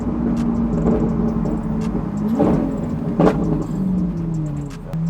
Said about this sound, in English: if you can hear me over the Aventador blowing up in the back